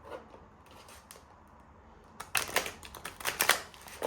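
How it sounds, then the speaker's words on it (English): Cards being shuffled by hand during a tarot-style reading: quiet rustle at first, then a louder burst of rapid riffling flutters and snaps near the mic in the second half, with no talking. "Just shuffle these cards."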